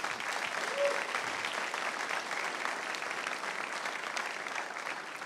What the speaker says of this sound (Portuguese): Vamos aplaudir o Tiago aqui, irmãos.